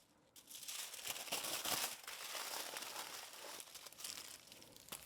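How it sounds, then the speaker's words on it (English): Aluminum foil is crinkled and crumpled around a rolled chicken burrito, a close, continuous rustling and crackling with denser bursts, the ends twisted shut, and no talking. "Roll the burrito up nice and tight, tucking in the ends as you roll, and wrap the foil,"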